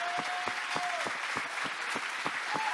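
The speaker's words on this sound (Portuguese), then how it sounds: "vamos dar uma salva de palmas bem dada" A church congregation keeps clapping for its pastors, with rhythmic sharp claps standing out over a dense wash of applause and a faint tonal hum from the sound system.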